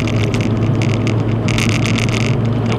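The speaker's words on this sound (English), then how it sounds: "I think my car's a little bit louder than usual." Car engine and exhaust drone steadily from inside a car cruising on a freeway, the exhaust sounding louder than usual, with a constant low hum and broadband road and wind noise throughout.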